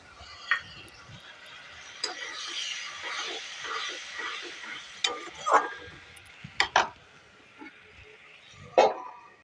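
A spoon stirs potato and pointed gourd curry with dried chili powder in a pan, giving soft continuous scraping and light sizzle broken by a few sharper clinks of utensil on metal, steady and close.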